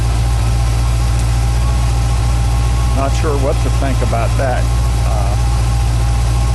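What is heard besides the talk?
car engine idling with an electric fuel pump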